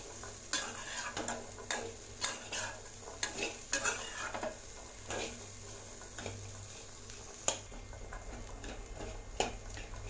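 Boiled chickpeas coated in masala are sautéed over a low flame for a masala sundal snack, a spoon scraping and knocking the pan in a steady rhythm above a faint, gentle sizzle, close by with no talking.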